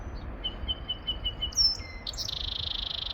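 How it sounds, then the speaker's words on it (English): Birds singing in a tree in early spring, with a series of clear, thin whistled notes and chirps, then a rapid trilling phrase, fairly near over a quiet outdoor background. "but you can hear the birds. They're just loving life."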